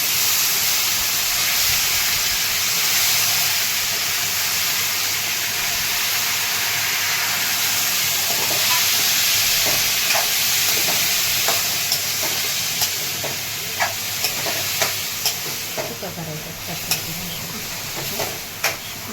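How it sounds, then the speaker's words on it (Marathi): Tender pumpkin sautéed and stirred in oil with curry leaves for a dry Maharashtrian bhaji, a dense steady sizzle building to sharper scraping stirs later on, close and loud with no talk. "भोपळा असा कवळा आहे एकदम, आपल्याला असं तेलामध्ये छान असं परतून घ्यायचा."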